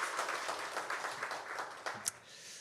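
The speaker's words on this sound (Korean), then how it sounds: "우리 하나님께 영광의 박수 올려드리겠습니다" A church congregation at a Sunday worship service claps in a soft, sustained wash of applause, with a few sharper claps near the end as it tapers off.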